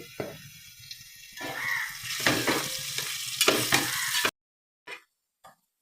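Raw prawns with fresh coconut frying in hot oil, a close, loud crackling sizzle with stirring that cuts off abruptly into near silence with only a few faint taps.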